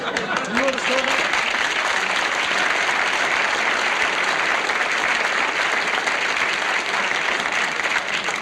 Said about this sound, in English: About time you applauded something